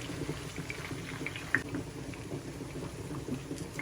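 Egg-stuffed beef nargisi koftas frying in oil in a pan, giving a steady, low bubbling and crackling that runs continuously at moderate volume, with one small clink partway through and no voices.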